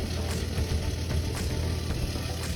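Steady low mechanical rumble with a faint rhythmic knocking and grinding from a Whirlpool Cabrio HE washing machine with a failing pump, continuous and fairly close, with no voices.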